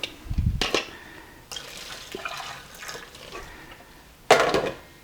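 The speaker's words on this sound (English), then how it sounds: "Gonna drain the water." Water drained off cooked broccoli, heard as a few short splashing pours and trickles close by, with one louder gush near the end and quieter dribbling between.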